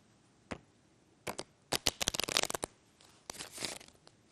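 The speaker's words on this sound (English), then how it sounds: "Believe it or not, you can riffle shuffle the magic deck" A deck of magic-trick playing cards being riffle shuffled, heard as a quick buzzing flutter of cards interleaving, preceded by a few sharp taps and followed by a softer settling riffle, close and alone without talk.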